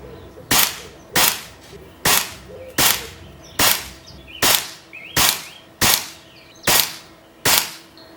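An Air Venturi Nova Vista air rifle fires H&N Baracuda 15 gr pellets: about ten sharp, close cracks at a steady pace of roughly one every 0.6 seconds, each with a short tail and no talking between them.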